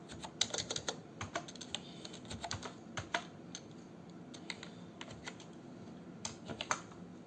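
Typing on a computer keyboard while editing a table in MS Word, with irregular clusters of light key clicks and a few heavier taps, close and fairly quiet with no talk.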